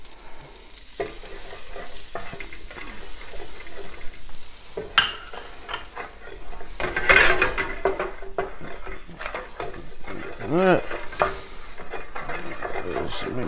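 A flour roux for gouda-and-bacon macaroni and cheese is stirred in a pan, giving close scraping and sizzling with utensil knocks against the metal that grow busier midway. There is no speech.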